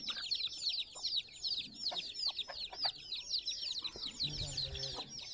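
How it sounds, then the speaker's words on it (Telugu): A short-beaked, long-tailed rooster and other fowl being packed for transport give rapid high chirps throughout, with occasional lower clucks and faint background noise. "చూడండి, short nose and long tail పుంజు ఇది."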